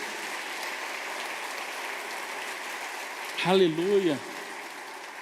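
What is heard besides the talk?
congregation applause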